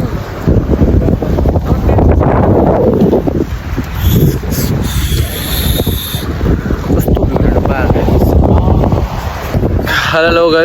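Wind blows on a boat out at sea on a fishing trip, a loud, steady buffeting roar against the microphone that lasts throughout, with water and boat noise mixed into it.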